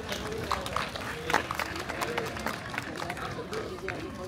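Applause from the audience at the results ceremony of the 2024 bryndza pirohy cooking olympiad: a steady, dense patter of many hands clapping, fairly close and continuous throughout.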